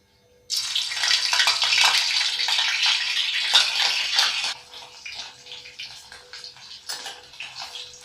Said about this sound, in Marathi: तर आपण कढईत तेल टाकलेलं आहे. आता पनीर आपण घालूयात.